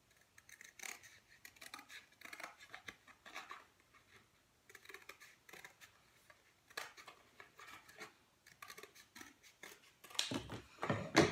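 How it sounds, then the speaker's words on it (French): Scissors cut through a strip of cardboard in a long run of quiet, crisp snips at an uneven pace, with a louder burst of cutting near the end and no talking. "avec ma paire de ciseaux, je vais découper ma bande de carton."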